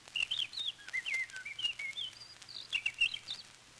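A person whistles an imitation of a skylark's song in quick, high, warbling chirps and trills, soft and slightly distant, over a faint low hum from a 1934 recording.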